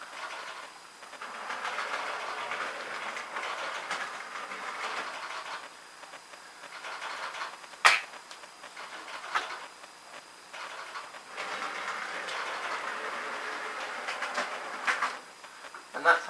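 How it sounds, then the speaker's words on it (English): An OO gauge model railway locomotive runs on its track, a faint continuous whirring and rattling with soft clicks as it rolls along, over a quiet room. "I've got this loco running as well on the inside track."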